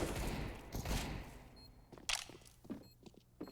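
Rapid gunfire in Counter-Strike: Global Offensive, a dense burst of shots at first, then a few short, separate tapped shots with faint footsteps between them, all at moderate to low loudness.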